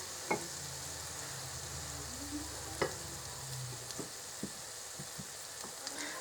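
Beer-battered onion rings frying in a deep fryer basket, a constant soft sizzle and bubbling hiss with occasional sharp clinks and taps of the basket and utensils, fairly quiet and steady throughout.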